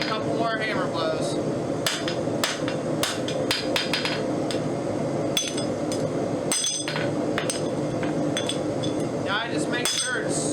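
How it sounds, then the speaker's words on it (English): Close, ringing hammer strikes on metal while forging a copper rose bloom, coming in uneven clusters with a few harder blows, clinking brightly over a constant shop hum. "Give it a couple more hammer blows."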